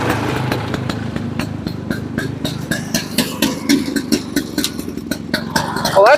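Barn-find Boa Ski snowmobile engine idling steadily close by, with a rough, uneven putter throughout and a brief rising whine at the very end.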